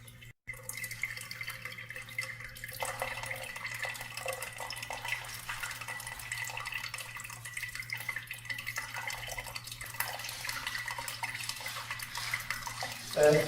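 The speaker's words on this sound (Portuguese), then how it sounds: "Vamos passar aqui no detergente para escorrer melhor a água que ficar." Running water pours steadily while dishes are rinsed with detergent, a continuous splashing wash with scattered drips and clinks, close and moderately loud throughout.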